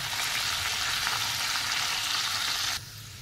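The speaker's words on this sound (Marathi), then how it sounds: "लसणाच्या पाकळ्या आपल्याला चांगल्या तांबूस रंगावर तळून घ्यायच्या आहेत" Garlic cloves fry to a golden brown in hot oil as a tempering for methi bhaji, giving a loud, steady, close sizzle that suddenly drops to a quieter hiss near the end.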